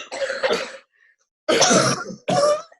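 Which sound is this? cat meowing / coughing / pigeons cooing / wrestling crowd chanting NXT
coughing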